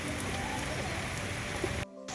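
Continuous rain falls steadily in a summer downpour, a dense even hiss of drops on surfaces that cuts off abruptly near the end, leaving only a faint low hum.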